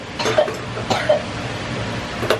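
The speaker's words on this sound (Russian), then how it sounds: "Что ты кашляешь?" Coughing, likely from a small child, comes as a few short, separate bursts spread over a couple of seconds, close by and moderately loud in a quiet indoor room.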